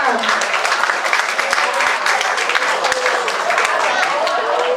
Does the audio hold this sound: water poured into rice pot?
no